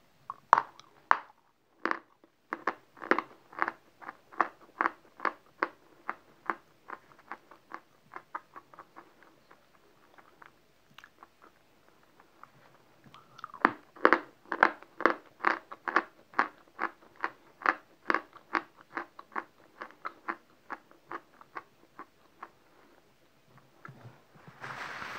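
Rapid, repeated crunching of hard, brittle, fatty chalk being chewed up close, in two long bursts with a short pause between, no talking.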